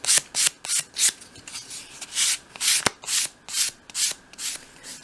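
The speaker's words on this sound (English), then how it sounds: "finish that piece off again in your hand with a piece of finer grade sandpaper, just to really tidy up the edges" A small wooden dolls-house cupboard piece is hand sanded with fine sandpaper, producing about a dozen close, rhythmic rasping strokes with brief gaps between, steady and fairly quiet, without speech.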